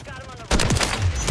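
Rapid automatic gunfire from a JAK Jawbreaker kit in Modern Warfare 3, a sharp loud burst that starts abruptly midway and continues as a dense rattling stream to the end.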